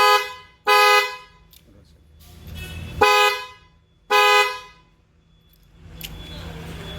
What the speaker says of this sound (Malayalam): ഹെല്ല എന്ന് പറഞ്ഞ കമ്പനിയുടെ ബ്ലാക്ക് പേൾ എന്ന് പറഞ്ഞൊരു ഹോണാണ് നമ്മളിലേക്ക് ആഡ് ചെയ്തിരിക്കുന്നത്